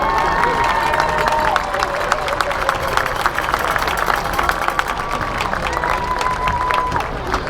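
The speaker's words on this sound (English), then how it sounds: "please give them a round of applause." A stadium crowd applauds and cheers at a high school football game between West Allegheny and Moon Area during senior night, a dense, steady roar of clapping and voices that holds loud and unbroken, with faint tonal notes drifting through it.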